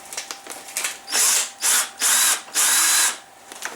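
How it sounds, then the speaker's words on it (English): A drill bores through the plastic top of a Chevy HHR door handle in four short, whining bursts, each close and loud, separated by brief pauses. "we only want to just drill enough to get that off there"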